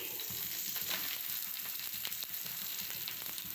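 Adai dosa frying in oil on a pan makes a soft, continuous sizzle that stays close and fairly quiet throughout.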